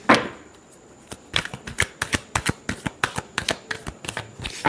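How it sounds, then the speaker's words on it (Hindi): Tarot cards being shuffled by hand, a quick riffle followed by a rapid run of crisp slapping flicks at a steady rhythm, close up with no talk. "Last shuffle."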